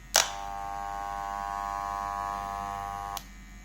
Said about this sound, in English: Turn the clippers back on.